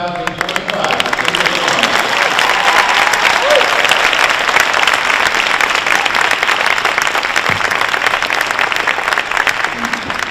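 An audience at a high school alumni ceremony applauds the class of 2025 with loud, steady clapping that fills the room and continues without pause for about ten seconds.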